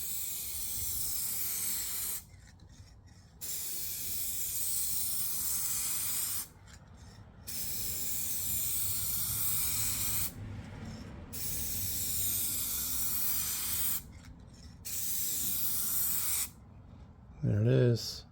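Aerosol spray applying a light coat onto worn, faded car headlights, five steady hissing bursts of a few seconds each separated by short pauses, close and clear, with a brief voice at the end.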